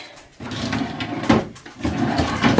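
Drawers of a baby changing table being pulled open and pushed shut, a few quick wooden sliding thuds and knocks in close succession, near and fairly loud, with no talk.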